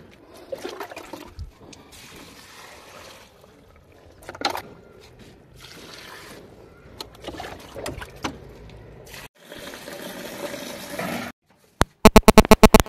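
Water is poured from a container onto potted plants in a home courtyard, a close splashing and trickling that comes in uneven pours, followed by a brief pause and a rapid run of sharp knocks at the end.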